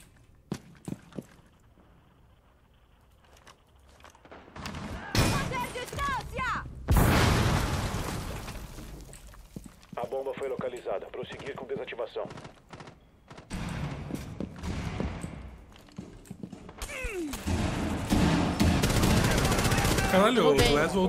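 Gunfire in the video game Rainbow Six Siege, bursts of shots and booms coming in loud waves with quieter gaps, mixed with footsteps and someone talking excitedly over the action.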